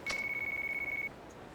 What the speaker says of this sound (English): We've got a phone call.